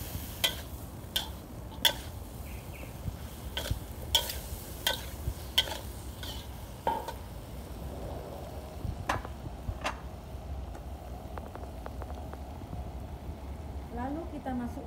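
Kwetiau rice noodles stir-fried in a pan for Indonesian kwetiau goreng, with repeated clattering spatula scrapes and taps over a steady low sizzle, and a voice talking intermittently.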